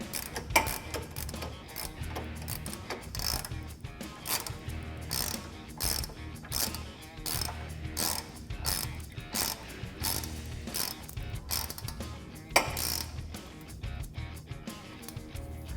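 A ratchet wrench turns an 18mm socket on a suspension bolt of a Jeep Wrangler JL during a Teraflex lift kit install, giving a close, repeated rhythmic clicking in bursts.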